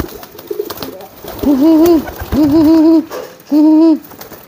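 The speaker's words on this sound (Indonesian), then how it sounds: "kalau kalian pengen merpatinya giring keras seperti ini" A pigeon of the giring type gives three loud, drawn-out cooing calls close by, each a wavering resonant coo separated by short pauses, over faint background noise.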